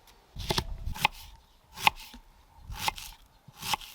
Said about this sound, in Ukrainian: Нарізаю цибулю на шматочки.